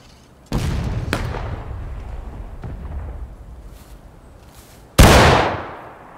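Musket volley fire from a War of Rights skirmish training session: a loud blast opens with a second close behind, and a later blast follows. A final sharp, close volley ends the stretch, each report trailing off in a long rumbling echo.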